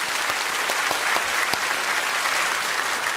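A church congregation at an evening revival service applauds the volunteers, a dense, continuous patter of many clapping hands, steady and fairly loud throughout a few seconds.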